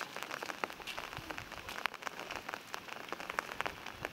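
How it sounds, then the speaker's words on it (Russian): Steady rain pours down on a jungle trail near a volcano in Asia, a dense continuous patter with scattered louder drops hitting leaves and surfaces close by, with no talking. "Ну что же, дождик немножко усилился."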